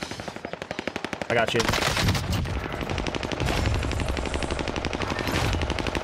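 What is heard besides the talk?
FARA 83 rifle gunfire in the video game Warzone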